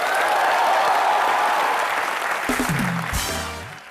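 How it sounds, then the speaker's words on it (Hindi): Loud studio audience applause at a comedy show, a dense wash of clapping that fills the first two and a half seconds and then thins out, while a voice and musical stinger tones rise over the fading clapping. "जोरदार तालियां बनती हैं एक बार।"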